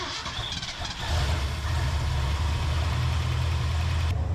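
A 1978 Ford F250 4x4 engine idles with a rough, harsh-sounding exhaust, a steady loud low rumble that settles in after a brief quieter start.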